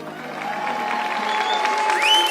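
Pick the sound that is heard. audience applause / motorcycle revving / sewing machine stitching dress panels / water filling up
audience applause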